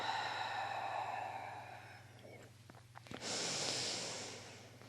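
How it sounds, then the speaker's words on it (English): A long, audible exhale during a calming breathing exercise, air pushed steadily out of the lungs in a soft breathy rush, close to the microphone, with a low hum underneath and no speech. "And exhale, press the air out."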